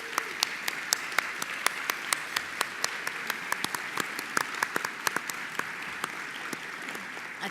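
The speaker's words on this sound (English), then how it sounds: "give them a warm round of applause to our judges" A crowd applauds with steady, scattered clapping, some individual claps ringing out sharply above the general patter.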